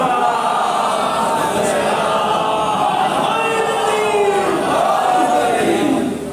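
Majlis congregation reciting salawat together in unison, a large crowd of voices chanting as one, loud and full with rising and falling melodic contours.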